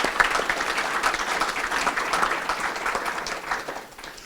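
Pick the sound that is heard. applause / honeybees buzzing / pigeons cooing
applause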